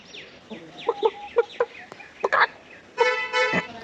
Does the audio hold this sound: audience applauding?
no